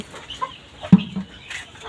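Native Bangladeshi chickens cluck nearby inside a shed in short, scattered bursts over quiet background noise.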